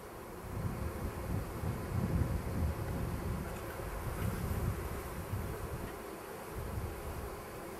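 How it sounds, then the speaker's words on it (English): Honeybees buzz around an open beehive during a frame inspection, a continuous low droning hum that swells and fades as the bees move close to the microphone. "ninth frame has just a few bees on my foundation"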